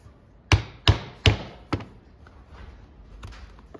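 A stitching chisel is struck through leather with a mallet, giving four sharp, close knocks in an even rhythm followed by a fainter tap, then quiet handling.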